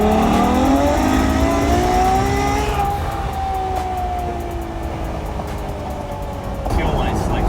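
A Ferrari 812 Superfast accelerates hard up close, its loud engine note climbing steadily, then dropping at a gear change before pulling again and swelling once more at the end.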